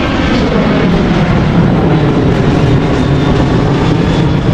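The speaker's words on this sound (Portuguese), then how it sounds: "Olha lá, o avião." An airplane departing from the airport at Porto Seguro makes a loud, steady engine roar that stays constant and dominant, with no talking over it.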